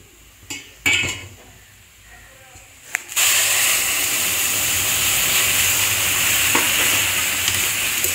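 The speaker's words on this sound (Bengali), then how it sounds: "এই গরম জলটা এই সুজির মধ্যে দিয়ে দেবো" Hot water hits fried semolina in a pan with a few utensil clanks first, then a sudden loud, steady hissing sizzle as it is stirred, continuing close and even.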